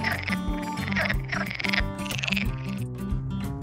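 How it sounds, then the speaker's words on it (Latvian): Frogs croak loudly and continuously at a desert oasis in Morocco, a dense near chorus of overlapping rhythmic calls with no talking. "varžu dziesmā"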